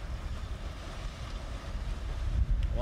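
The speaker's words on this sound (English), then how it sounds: "Wow, big waves." Big waves breaking on the shore at Fårevejle with strong wind buffeting the microphone, a steady low rumbling wash that swells louder toward the end.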